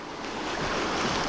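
Water swirling and splashing around legs while wading on foot through a cold, knee-deep creek crossing in Northern Nevada, a steady rushing wash close to the microphone.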